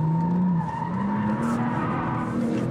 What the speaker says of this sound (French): Gros freinage.